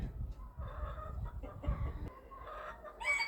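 A bantam hen scratches in a yard and gives soft, faint clucks in short bursts over low background noise.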